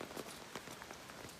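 Rain falls steadily on a wet path on the way to Vasundhara waterfall in Maharashtra, a soft continuous patter of drops striking surfaces nearby.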